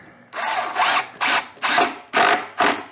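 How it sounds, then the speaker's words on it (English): A power drill drilling a screw hole into a wooden pallet whirs in six short, loud bursts with brief pauses between, close by and without talking. "so I drill a hole, and then I put that screw in"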